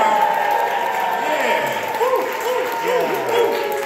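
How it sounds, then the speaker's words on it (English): A crowd cheers and applauds for Oliver at the WUBS Reunion 2023 event, loud sustained noise with whoops and shouted voices rising and falling throughout. "I want to hear a big old cheer for Oliver"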